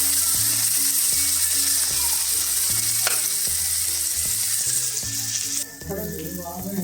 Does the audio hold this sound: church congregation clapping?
no